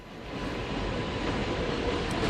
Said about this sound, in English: Sorry it's a little bit loud right now because the train is just going overhead of me.